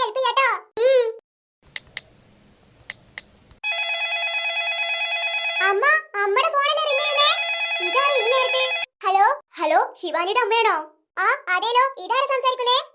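A telephone ringtone sounds indoors in a home, a steady electronic ring that plays continuously for a few seconds after a brief quiet spell, with a child and an adult talking before and over it.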